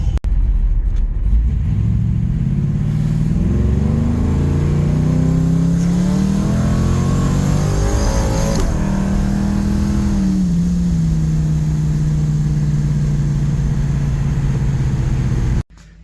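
A 1980 Camaro Z28 V8 idles with a deep, throaty rumble, revs up in several rising and falling pulls, then settles back into a steady loud idle before cutting off abruptly.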